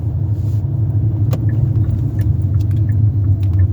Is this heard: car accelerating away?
yes